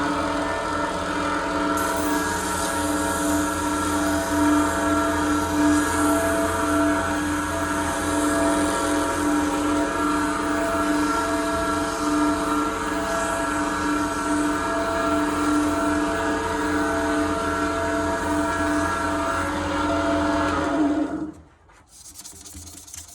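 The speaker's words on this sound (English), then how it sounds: "that's the sanding process finished now" Steady, continuous abrasive rubbing of 600-grit sandpaper on a twist pen or letter opener, with a mechanical drone underneath, running unbroken for about twenty seconds before cutting off abruptly.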